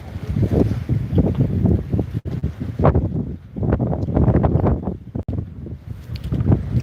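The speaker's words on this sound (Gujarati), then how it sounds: "પવન છે ભાઈ ઘડીક થાય ત્યાં વરસાદ આવી જાય" Strong, gusting wind buffets the microphone at a harbour on the coast near Dwarka in rainy weather, a loud, continuous roar that surges and dips in uneven bursts.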